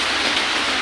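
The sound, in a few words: rain falling outside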